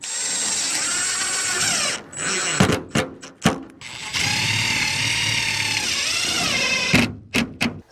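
A cordless power drill drives screws through plastic roof panels of a pallet-wood shed, running in long loud whirring stretches broken by short stops, sharp clicks and brief clattering bursts.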